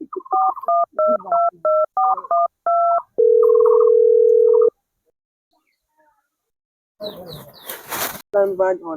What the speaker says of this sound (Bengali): সালা বসকে একবার ফোন লাগাইন দেখি